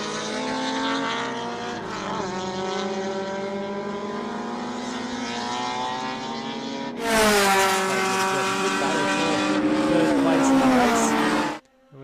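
Sports compact race cars lapping Winton Motor Raceway, engines droning steadily at high revs as a pack passes, then a louder, nearer surge of several cars with shifting pitch before it abruptly cuts off; commentary runs underneath.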